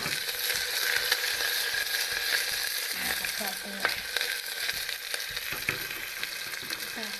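Cumin and onion frying in hot oil for dal, a dense continuous sizzle with occasional scraping and stirring clatter from a spoon, close and alone without voices.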